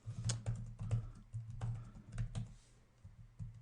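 Rapid typing on a computer keyboard while configuring network switches, with close, crisp keystrokes in uneven bursts and short pauses, heard alone without speech.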